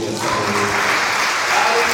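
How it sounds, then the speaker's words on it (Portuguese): Church congregation applauding during a sermon, a dense, even rush of clapping from many people that stays loud and steady throughout, with voices mixed in beneath. "Levante a mão e aplauda o Senhor"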